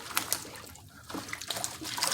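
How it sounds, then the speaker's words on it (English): Water trickles and sloshes in a basin as greens are gently soaked, a soft, steady running-water sound with small splashes up close. "I take the greens and I gently soak them in the water."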